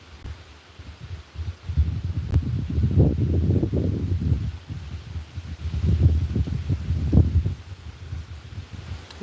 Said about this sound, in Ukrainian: Вітер віє.